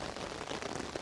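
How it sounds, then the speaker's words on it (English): Steady rain falling on an outdoor memorial ceremony for the 75th anniversary of the Dieppe Raid in Ottawa, a constant close hiss of drops with no voices. "As we sit here in the rain"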